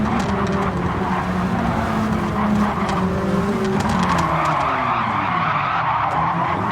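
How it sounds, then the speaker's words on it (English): Gran Turismo race cars collide at Deep Forest Raceway, with loud, continuous tire skidding and squealing over a droning engine roar that carries through the whole replay, with no talk. "Don lost a little bit of control, ended up going on top of Vic's car."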